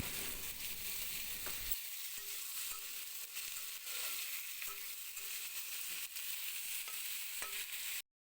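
Potatoes and pointed gourd fry in a pan with a steady, close crackling sizzle, broken by a few sharp stirring clicks from a utensil throughout.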